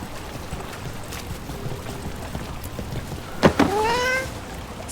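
A cat in Dragon Age: The Veilguard lets out a single rising-and-falling meow near the end, over steady low background ambience.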